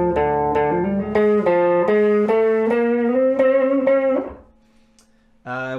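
Distorted electric guitar plays a chugging rhythm part with a chromatic walk up from the F, notes stepping higher in even strokes, loud and close, then a pause before another chord rings out.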